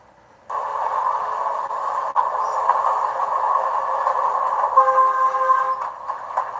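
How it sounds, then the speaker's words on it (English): A steam train rumbles past steadily with a strong mechanical drone, and a sustained horn-like tone rises near the end; no voices. "To see steam running like now is incredible."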